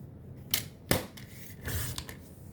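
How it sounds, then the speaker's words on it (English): Cardstock being cut to size on a paper trimmer, heard as a few sharp slicing and clacking strokes spaced across a couple of seconds, close and moderately loud with no talking. "we're going to take this piece and we are going to turn it and cut it at 6"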